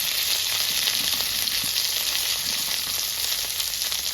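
Ivy gourd (dondakaya) pieces fry in oil over a low flame, giving a strong, continuous, close sizzle with a steady crackling texture and no voices.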